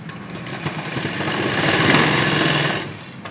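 A sewing machine runs one continuous, loud, close stitch of about three seconds along the seam of a small Afghani-style salwar for a toddler, swelling slightly midway before stopping.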